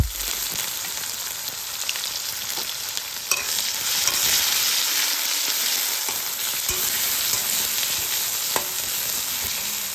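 Chopped onions frying in a wok of oil with bay leaves, a steady close hiss of sizzling over ten seconds broken by a few soft stirring taps, no voices.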